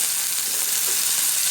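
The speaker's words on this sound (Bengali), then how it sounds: "ওই তেলে আমি দিয়ে দিচ্ছি গাজর আর আলু কেটে নিয়েছি।" Cut carrots and potatoes sizzle steadily in hot oil in a pan, a continuous bright crackling hiss heard up close with no talking.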